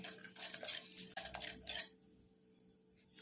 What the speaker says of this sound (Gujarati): હવે વિસ્કરથી આપણે એને પહેલાં ફેંટી લઈશું આ રીતે